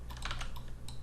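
A single quick burst of computer keyboard key presses, a few sharp clicks within a second, close and quiet, with no voice.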